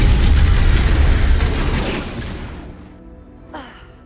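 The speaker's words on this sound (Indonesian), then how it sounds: "Akhirnya ledakan besar itu menewaskan Jimmy dan juga para anak buahnya" A big explosion in an action film: a deep rumbling roar that slowly fades away, followed by a brief gasp-like voice near the end.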